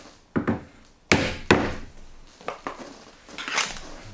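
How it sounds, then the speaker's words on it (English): A laundry room cabinet panel being tapped up into place under a front lip with a hammer: a handful of sharp, separate knocks at uneven intervals, close and fairly loud, with small rattles and clatter in between. "Hammer it up a touch."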